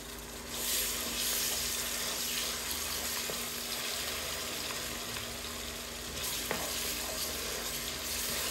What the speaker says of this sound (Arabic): هيك بقليهم كلهم سوا مع بعضهم، قلبتهم هيك شوي مع بعض